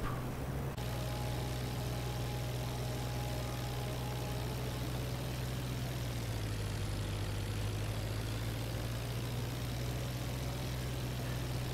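A WWI-era aircraft engine in the IL-2 Flying Circus flight simulator drones steadily and loudly through a loop, its pitch sagging slightly partway through, with no talking over it.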